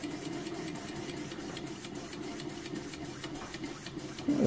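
A home-made rocking beam model steam engine running on compressed air gives a fast, steady mechanical chuffing and clatter, close and continuous, with a brief louder burst at the end.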